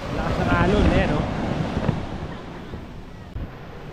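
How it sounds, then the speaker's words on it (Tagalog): Strong ocean waves wash onto a white sand beach amid gusty wind buffeting the microphone, a loud, broad roar that slowly eases, with a person speaking briefly over it. "Lakas ng alon eh no."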